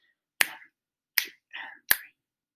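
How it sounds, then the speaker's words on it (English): A class claps a rhythm together: four sharp, separate hits spaced unevenly across a couple of seconds, crisp and close, with silence between them. "Let's clap the whole thing together."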